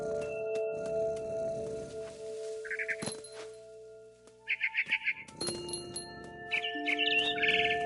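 A bird chirps in short bright bursts of rapid repeated notes outdoors, with occasional cracks and knocks between calls and no talking.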